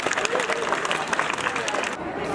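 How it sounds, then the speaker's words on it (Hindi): A crowd claps at a school annual function and award ceremony, a short burst of dense applause with voices murmuring beneath it. "जोरदार तालियां से आज के प्रोग्राम रो शुभारंभ करो।"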